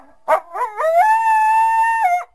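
A coyote howls alone, a rising yip sliding into one long sustained wavering howl that drops at the end, fairly loud and close, with woods at Coyote Creek as the setting.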